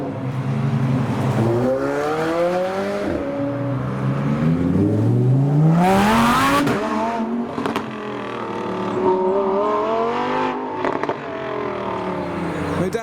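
A Lamborghini STO and a McLaren 720S supercar pull hard out of a junction, their engines loud and close, revs climbing and swelling repeatedly as they accelerate away one after the other.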